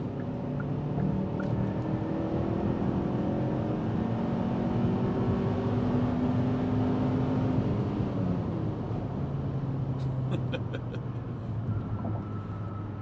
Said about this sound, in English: I'm just going to gun it here on the highway